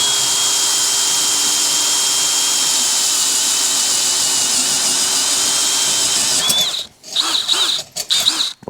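A power drill boring a hole for a solar panel tilt mount, with a loud steady high-pitched whir for about six seconds before it stops and gives way to short bursts of drilling.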